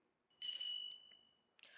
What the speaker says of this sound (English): Our timekeeper will ring the bell once to indicate that you have 1 minute left to conclude.